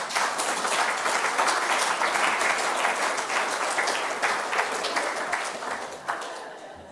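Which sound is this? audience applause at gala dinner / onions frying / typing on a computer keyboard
audience applause at gala dinner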